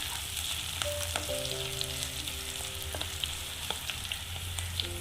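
Garlic, ginger and curry leaves sauté in hot oil with a continuous, close frying sizzle, scattered crackles and occasional stirring taps, plus a faint steady hum in the background.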